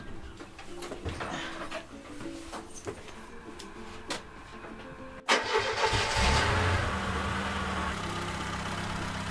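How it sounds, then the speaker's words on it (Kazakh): A car engine cranks and catches about halfway through, after a stretch of quiet background noise, then settles into a steady, fairly loud idle. "Отыр машинаға, от алдыр ана."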